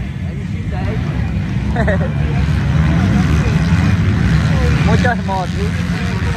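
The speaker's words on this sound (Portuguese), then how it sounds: "Muitas motos, viu?" Many racing motorcycles at a local race in Quixadá roar continuously with a loud, dense engine drone, with bikes revving and passing close by under a commentator's talk.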